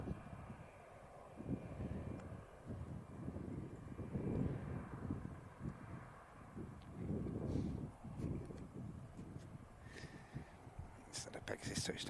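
Aircraft engines rumble at Manchester Airport under overcast skies, a steady low distant drone with wind noise, while someone talks over it throughout.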